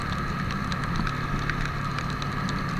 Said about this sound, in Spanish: Como podrán notar, está lloviendo